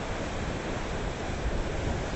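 Steady roar of ocean surf washing and breaking on a jetty, broadband and continuous with some wind rumble, fairly close and loud throughout.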